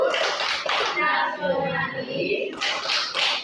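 A class of Indonesian schoolchildren performs the tepuk PPK, a rhythmic clapping chant: dense bursts of group hand claps open and close it, with a loud, close chorus of young voices chanting in unison between them.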